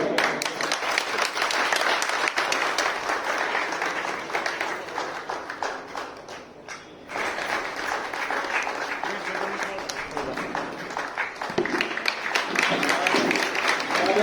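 Loud welcoming applause fills a Sakhi Saheli women's gathering in Uchana: many hands clap densely and rhythmically, dipping briefly midway before surging back, with voices speaking and calling out over the clapping.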